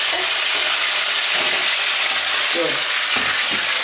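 French fries dropped into hot oil for a Turkish kebab dish, sizzling and bubbling steadily with a few stirring clatters, with a brief spoken word.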